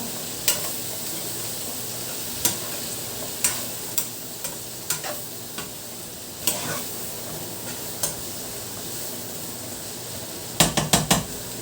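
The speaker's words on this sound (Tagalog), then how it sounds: "So, ayan, haluin natin." Lomi noodles stirred in a pan over a constant background sizzle, a utensil clicking against the pan at irregular intervals, ending in a quick cluster of clinks.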